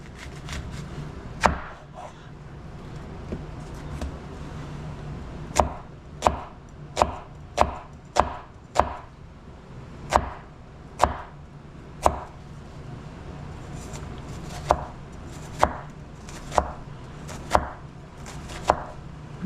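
A knife finely dicing an onion on a cutting board during shepherd's pie prep, a string of crisp, sharp chops arriving in quick bursts with short pauses between, close and clear with no talking.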